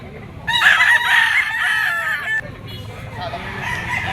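A gamefowl bull stag rooster crowing close by, one loud drawn-out crow followed by softer clucking and farmyard noise.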